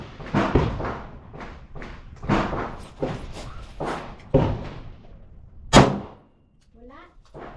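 Several sharp gunshots ring out at an outdoor shooting range with a 7-yard bay, spaced irregularly, each with a short decaying tail, with a voice speaking briefly near the end.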